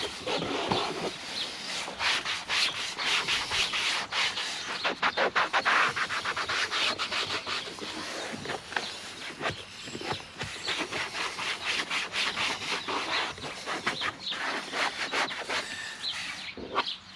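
A cloth wipes excess cleaning product off a car's interior surfaces in a continuous run of close, scratchy rubbing strokes.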